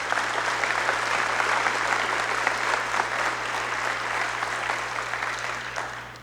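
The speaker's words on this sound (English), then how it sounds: "All of the members of our school committee, if they could all please rise and be recognized with a round of applause." Steady, full audience applause for school committee members rising at a scholarship night ceremony, dense continuous clapping from a crowd that holds for several seconds before tapering off at the end.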